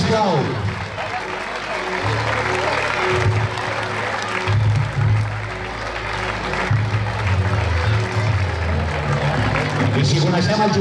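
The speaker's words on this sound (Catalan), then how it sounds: "Un aplaudiment pel juvenil, sisplau." Audience applauding the youth team at a sports club's team presentation, steady broad clapping that fills the whole stretch with crowd murmur mixed in.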